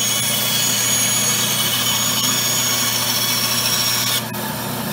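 Old Craftsman band saw running steadily with a continuous loud motor hum and blade whine, close by, dropping slightly in level near the end.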